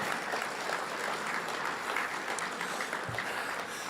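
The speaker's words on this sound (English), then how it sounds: "let's give a round of applause to the great Tommy Hunt" Banquet audience at a USAC National Series event applauding Tommy Hunt, a steady, even wall of clapping from a large crowd with no talk over it.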